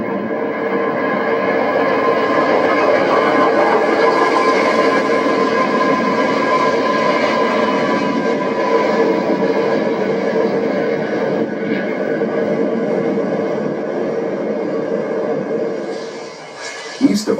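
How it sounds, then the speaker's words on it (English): Steam locomotive 3751 hauls a 12-car train across desert country near Fenner, California, its steady rumble and rolling clatter loud and continuous throughout, easing slightly toward the end, with no talk over it. "The steam engine leads its 12-car train across the desert country at Fenner as it approaches Essex."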